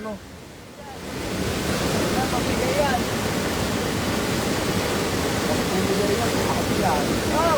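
Floodwater from a river overflowing in heavy rain at Ambuklao gushes as a loud, steady roar of rushing water that swells in after a quieter start. A voice talks faintly beneath it.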